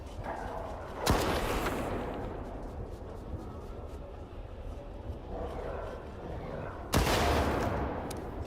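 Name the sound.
gunfire from shooting in video game Stalker 2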